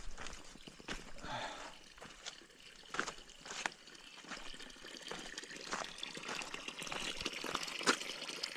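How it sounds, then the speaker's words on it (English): Spring water trickles at Cool Springs on the Appalachian Trail in the Smoky Mountains, a steady close splashing and dribbling broken by brief sharper drips, with no voices. "I'll show you what Cool Springs looks like, because this is where I get my spring water"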